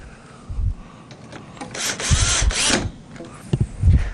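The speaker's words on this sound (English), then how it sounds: "take the screws that come with it and tighten these in" Screws are driven into a Premise panel connector by hand tool, giving a few close scraping, ratcheting turns and low knocks in short bursts, with a longer rasping twist in the middle.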